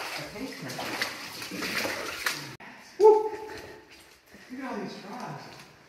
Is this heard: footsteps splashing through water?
yes